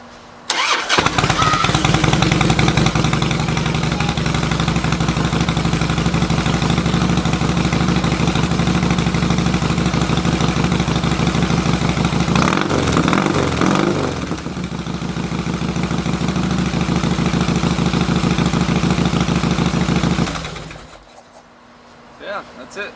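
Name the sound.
motorcycle engine starting and idling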